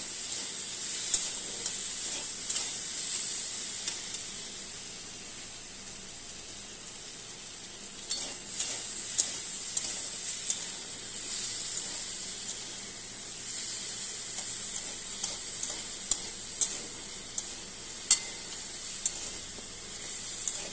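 Moong dal frying in a pan, a steady soft sizzle and hiss with occasional stirring clicks and scrapes, continuous and fairly close, with no talking.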